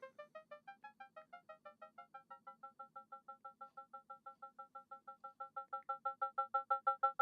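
A rapid train of short, evenly pulsed electronic tones from a Moog Mother-32 and Pico VCA eurorack setup, shifting pitch, then settling on one repeating note that grows louder toward the end, with no voices.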